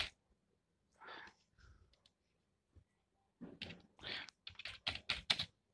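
Computer keyboard typing as a simple program is entered, short quiet bursts of keystrokes with pauses, then a faster run of clicky taps close by.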